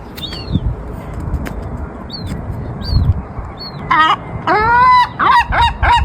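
Seagulls on a beach, scattered short high calls at first, then a louder burst of rising, wailing cries toward the end over a light background rumble.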